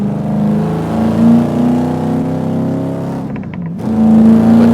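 A 1971 Camaro Z-28 V8 drones steadily while driving, its engine note rising and falling with a brief dip and gear change near the end before pulling strongly again; no one speaks.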